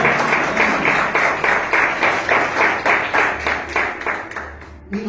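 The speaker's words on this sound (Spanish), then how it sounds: "Un aplauso al Señor" A church congregation clapping in a fast, steady rhythm during a sermon, many hands together, loud and close, with a voice briefly audible near the end.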